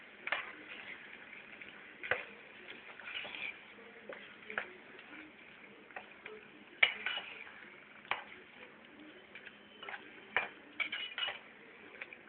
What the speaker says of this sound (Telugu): బాగా మిక్స్ చేసేసుకోవాలి ఆయిల్లో